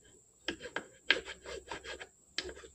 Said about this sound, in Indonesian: Kita kikirlah dia.